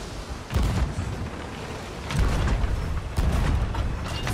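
Ship cannons fire in a pirate naval battle video game, with three heavy booming blasts spaced about a second apart over rumbling background noise, loud and close.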